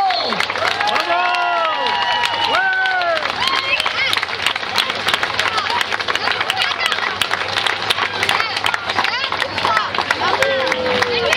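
An audience applauds and cheers a children's school choir from Oraison, loud sustained clapping with whoops and crowd noise; a voice speaks over it at the start, and a melodic tone lingers near the end.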